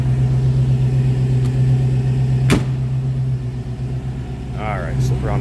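A 1934 Dodge Cabriolet engine idles with a smooth, steady low hum, close and constant, and a single sharp click midway; a voice briefly speaks near the end.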